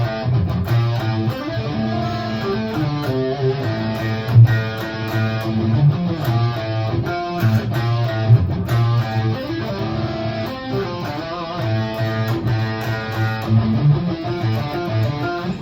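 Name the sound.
6-string guitar playing first riff of a song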